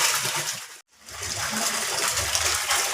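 Water gushing steadily into a koi pond filtration system, a close broadband splashing rush broken by a brief gap before resuming.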